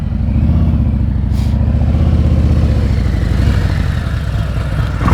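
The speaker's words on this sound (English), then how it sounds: "Listen to his throttle, the preload." Motorcycle engine idling and blipping lightly on the throttle during slow-speed riding practice, a steady close low rumble with a faint rhythmic clatter running throughout.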